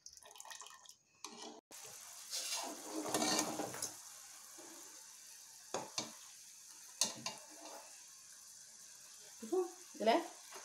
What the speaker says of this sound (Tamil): ஒரு 5 நிமிஷம் கொதிக்கட்டும்.